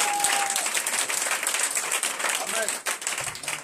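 A church congregation applauds and cheers steadily, with dense clapping and crowd noise that holds at the same level throughout.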